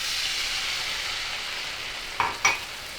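Garlic sizzles steadily in a hot pan for shrimp and scallop scampi, a soft constant hiss, then two sharp, louder hissing bursts near the end as wine is poured in.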